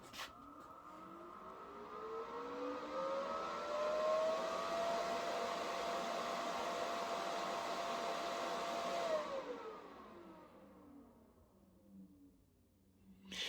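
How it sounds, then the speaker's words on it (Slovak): Cooling fans of an Alfain Perun 200 MIG SYN PFC multi-process welder spin up at power-on, a rising whirring hum with a climbing tone that holds steady for several seconds, then winds down and fades. "a rozbehnú sa ventilátory"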